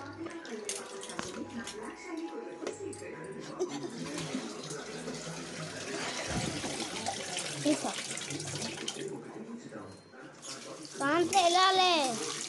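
Gongura leaves are squeezed and washed in water, with sloshing, splashing and dripping sounds that swell near the end, as voices, including a child's, talk in the background.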